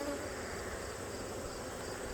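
Honey bees buzz in a hive packed with bees and brood in fall, a dense, steady, close hum with no breaks and no voices.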